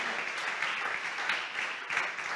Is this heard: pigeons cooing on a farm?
no